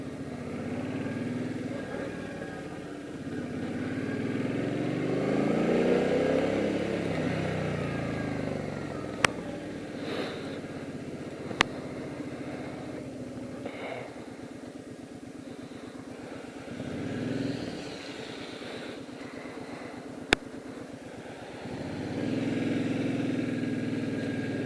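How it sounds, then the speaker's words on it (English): A motorcycle engine rides in the rain, holding a steady drone that swells in a few low revs and drops back, with sharp clicks scattered through and a rough, wet background. "You can rev it really low, but really high it doesn't rev"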